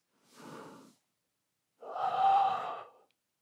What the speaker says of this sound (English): Inhale down and exhale up.